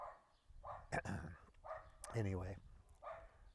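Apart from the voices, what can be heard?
dogs barking in the background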